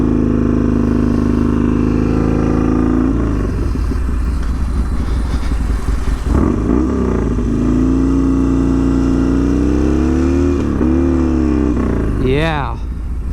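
A Harley-Davidson XR1200 motorcycle engine idles with a steady low rumble, then revs up and down several times and rises in pitch near the end while a person talks over it.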